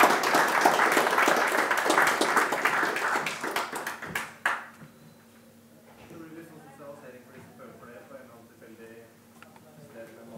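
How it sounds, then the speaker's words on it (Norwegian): A small group applauds at a talk, a brisk ripple of clapping for about four seconds that fades out, followed by quiet voices talking. "Da la oss gi en applaus."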